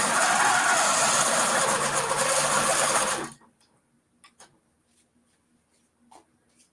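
A King Quilter II Elite longarm sewing machine stitching binding onto a quilt hums in a loud, steady mechanical whir for about three seconds, then stops, followed by faint handling clicks.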